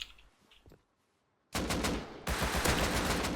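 Loud automatic gunfire in the survival game Rust erupts after a quiet pause, continuous rapid shots that intensify partway through, close and without talk.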